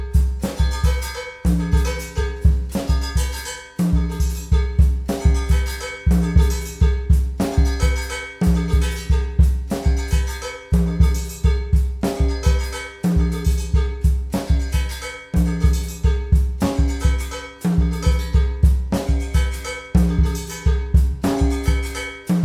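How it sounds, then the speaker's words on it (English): A busy, polyrhythmic drum kit groove plays, with cowbell split between both hands and mixed with snare and high tom while the bass drum punches accents, steady and loud throughout with no talk. "Right hand cowbell, left hand cowbell distributed with the snare and high tom"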